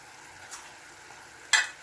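Chicken estofado simmers in a covered pan with a faint, steady sizzle, broken by two light clinks, the second sharper, as the lid or a utensil touches the pan.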